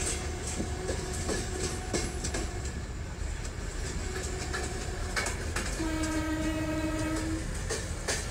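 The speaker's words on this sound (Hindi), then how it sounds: "लोकल ट्रेन की हॉर्न सुनो यार।" A train horn in the Open Rails simulator, on a Mumbai-Ahmedabad Double Decker Express hauled by a WDP4 locomotive, gives a few short toots and then one longer chord-like blast over steady rumbling rail and wheel noise.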